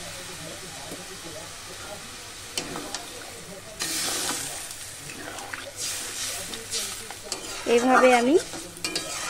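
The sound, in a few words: frying jhinge posto after adding a little water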